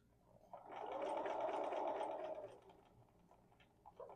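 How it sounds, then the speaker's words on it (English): A sewing machine stitches an improv curves quilt block in a quiet room, a soft, rapid mechanical whir rising over about two seconds and then easing off, followed by faint ticks and handling noises. "as you're sewing"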